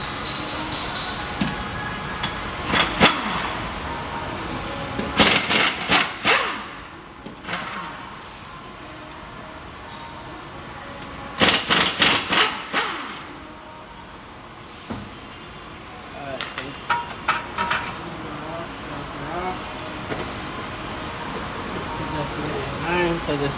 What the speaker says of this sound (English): Now we have an impact.